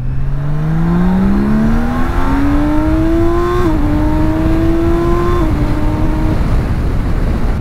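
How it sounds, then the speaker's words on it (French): A 2017 BMW K1600 bagger motorcycle accelerates hard in second gear, its six-cylinder engine rising loud and close, with a brief dip in pitch at each of two gear shifts before climbing again. "on va se refaire une petite accélération en seconde là pour le plaisir des passages de rapport"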